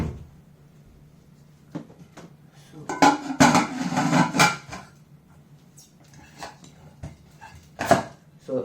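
A pressure cooker being unpacked from luggage gives scattered metallic knocks and clatters of pot and lid, with a busier burst of rattling handling in the middle and a sharp clank near the end.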